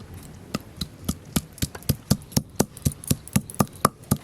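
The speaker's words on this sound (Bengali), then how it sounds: "প্রথমে আদা আর জিরে একসঙ্গে বেটে নেবো।" Ginger and cumin being ground together into a paste with a grinding stone, heard as a steady run of about fifteen sharp, close knocks at an even pace, with no talking.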